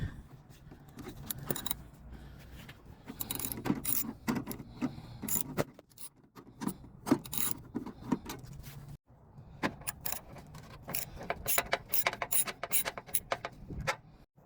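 Bolts being loosened from a headlight on a 1998 Dodge Dakota with a 10mm socket on a ratchet with extensions, heard as a steady run of close metallic clicking and rattling with one short break partway through.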